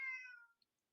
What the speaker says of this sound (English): Cat is so fucking loud.